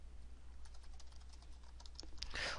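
Fairly faint computer keyboard typing of an email address, a quick run of light key taps over a steady low hum, ending in a louder clatter.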